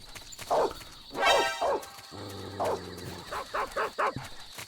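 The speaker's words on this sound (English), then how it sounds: "I wonder if he's gonna alert right away while the dogs are barking" Dogs barking in the stealth video game Metal Gear Solid 3: Snake Eater, several short loud barks in bursts spread across the clip, with game sounds between them.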